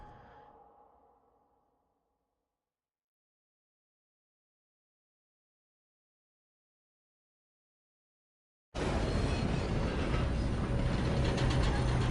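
A train running in the video game Red Dead Redemption: after a faint fading tail and a long stretch of silence, a loud dense mechanical rumble and clatter abruptly cuts in and carries on to the end.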